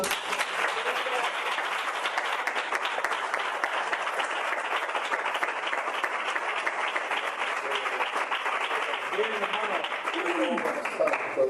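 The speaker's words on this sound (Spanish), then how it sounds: "¿Hay alguien que le pueda dar un aplauso a la palabra?" A church congregation applauds steadily and evenly for about eleven seconds, a dense wash of clapping from many hands with faint voices mixed in.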